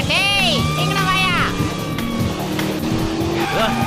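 A car speeds past and overtakes on a hill road, engine revving loud and close with sharp rising whines and tire squeal, while voices talk over it.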